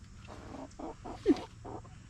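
Chickens cluck close by in a series of short, soft clucks with one sharper squawk midway, over low background noise.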